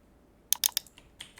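Quick keystrokes on a computer keyboard, a short burst of three or four sharp clicks followed by a few lighter, scattered taps, close and crisp in a quiet room.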